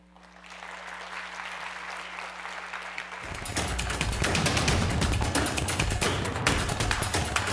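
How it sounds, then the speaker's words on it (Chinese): An audience at a student computing conference breaks into dense applause for a keynote speaker. The clapping builds to a loud, sustained roar after a quieter hum of a hall. "我们用热烈的掌声欢迎我们今天的 Keynote 讲者"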